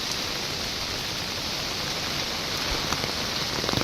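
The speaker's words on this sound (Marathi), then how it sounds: "मित्रांनो हा आवाज येतोय तो पावसाचा आहे" Heavy rain pours down in a dense, hissing roar, heard while walking under an umbrella, steady and loud throughout with a few sharper drop impacts near the end.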